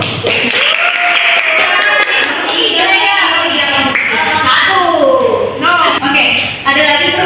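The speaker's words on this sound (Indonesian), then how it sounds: "boleh tepuk tangannya dulu untuk kelompok 1" Students in a classroom clap for a group that has just presented its short story, the clapping and tapping mixed with steady children's chatter throughout.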